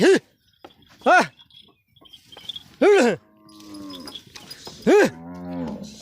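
Several cows low loudly, four drawn-out moos spaced a second or two apart, with faint birds and background noise between them.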